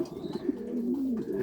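A pair of Gusat Horseman pigeons, male and female, cooing in low, throaty, warbling tones that rise and fall steadily, close by and moderately loud with no talk.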